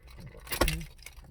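A bunch of keys jangles briefly while someone searches for a key, a quick close metallic rattle peaking mid-way and fading.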